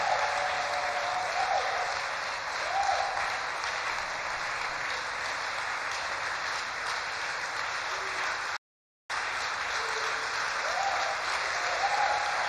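Sustained, dense applause fills a church thanksgiving service as the congregation claps and cheers in acclaim. It holds steady and loud for about twelve seconds, with one brief dropout near the end.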